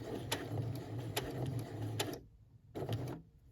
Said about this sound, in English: I stopped with the needle down, you see. I'm going to lift up the presser foot, pivot, and then keep on sewing.